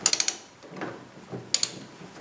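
A socket ratchet clicks on a steering shaft bolt of an '85 vehicle: a quick burst of four faint ratchet clicks, soft handling noises, then two more clicks, close up and quiet.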